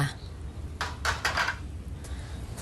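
A spoon stirs Vietnamese-style kuay jap soup ingredients, rock sugar and light soy sauce, in a pot, giving a brief run of scraping, clinking strokes against the metal over a quiet background.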